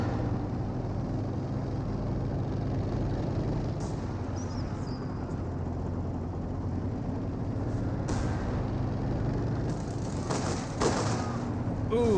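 A Company of Heroes 2 battle on the Spearhead mod roars with steady gunfire under a constant rumble, and sharper bursts of shots break through near the end while a voice talks faintly.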